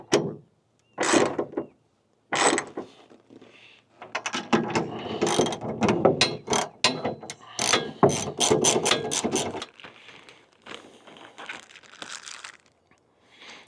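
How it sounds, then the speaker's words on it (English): A ratchet tightening a nut with a nylon locking insert on a tractor part: loud, close, rapid clicking in bursts, with a few scattered clicks at the start and a pause near the end. "we just want to tighten this up until the threads come through the top and hit the nylon locking"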